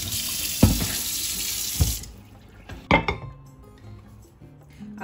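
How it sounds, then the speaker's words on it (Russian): Cold tap water gushes loudly into a jar of young garlic for about two seconds, then stops. A few glassy clinks and knocks from handling the jar follow in a quieter room. "И наполняем опять холодной водой."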